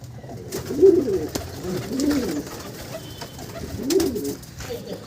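Domestic high-flying hobby pigeons coo close by in three soft, throaty rounds spaced about a second apart, over a low murmur of background noise.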